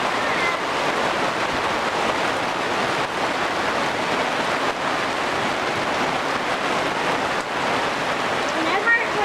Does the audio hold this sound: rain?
yes